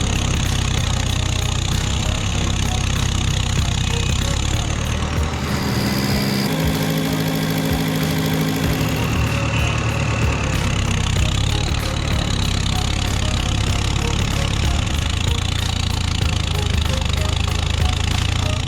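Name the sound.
Valmet 872 logging truck engine straining, stuck in mud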